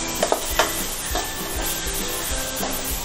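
Garlic, fennel, cardamom and poppy seeds sautéing in a pan for crab masala, a soft steady sizzle with repeated scraping stirs of a utensil close by, no talking.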